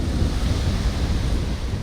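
Sea surf rolling onto an eroding shoreline, a continuous broadband wash of waves with rumbling low end and some wind buffeting, steady and fairly close throughout.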